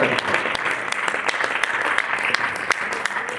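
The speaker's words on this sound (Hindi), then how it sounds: "आपको सीखना एक बार जरा भरपूर तालियां" Steady, full applause fills a Hindi poetry gathering (kavi sammelan), a dense sustained wash of many hands clapping at even loudness with no voices over it.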